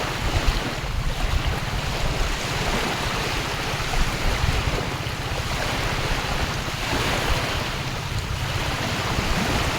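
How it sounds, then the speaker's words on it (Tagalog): Ocean waves wash steadily onto the shore in a continuous broad rush, with gentle swells of surf and some wind, no voices present. "Nagpunta na ako dito sa dagat."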